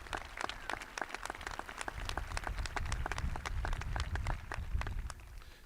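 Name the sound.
applause at a high school graduation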